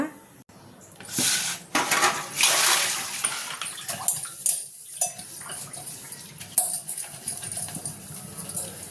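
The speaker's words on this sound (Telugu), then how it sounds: "కొన్ని గిన్నెలు ఉన్నాయి కదా అవి తోమేశాక కూర చేస్తా" Kitchen pots scrubbed under a running tap: bursts of splashing water mixed with clanking metal and scraping, loud and close, with short pauses between rinses.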